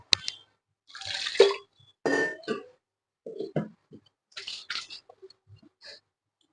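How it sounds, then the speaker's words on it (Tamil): Water sloshes and swishes in a mixer grinder jar as it is rinsed out after grinding green gram and peanut dosa batter, coming in several short splashy bursts close by. "நம்ம கொஞ்சம் தண்ணி விட்டு மிக்சி சார அலசி விட்டுக்கலாம்"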